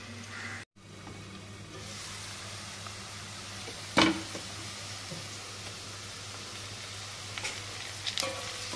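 Onions and green chillies fry in a pan for mutton curry, a steady close sizzle with occasional louder scrapes and pops of stirring, no talk over it.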